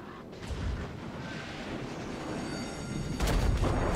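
Naval guns fire in the World of Warships game from the cruiser Nassau, a deep booming rumble with one loud burst near the end over steady battle noise.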